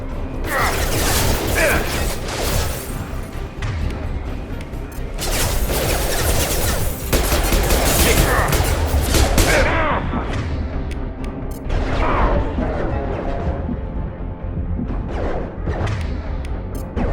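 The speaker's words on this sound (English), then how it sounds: "Use the grenade launcher to take them out." Grenade launcher fire and impacts against mechs in Mass Effect 2, heavy thuds, crashes and blasts repeating densely across the whole stretch amid mechanical battle noise and music.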